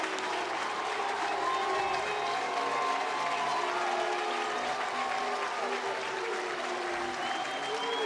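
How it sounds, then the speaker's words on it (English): A college baseball crowd at Troy's ballpark sustains loud, dense applause and cheering for the whole stretch, with a play-by-play announcer talking over the roar. "Listen to this Troy crowd start to get up."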